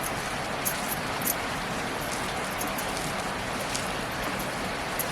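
Heavy monsoon rain pours down steadily outdoors beside a wood-fired stove where onion bhaji are being made, a dense, even hiss of drops with occasional louder splats, no voices.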